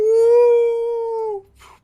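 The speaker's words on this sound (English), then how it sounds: "You hear a howl." A lone wolf howl rises and holds a long, clear tone before dropping off, loud and close, played as an effect during tabletop game narration.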